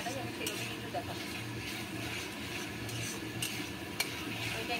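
Chickpea curry for a luchi-and-chhola meal being stirred and sautéed in a pan at home, a steady low sizzle with soft scraping stirs running continuously, one brief clink near the end.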